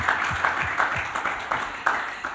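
Studio audience on a TV set clapping in quick bursts, with some low thumps beneath the short, uneven claps.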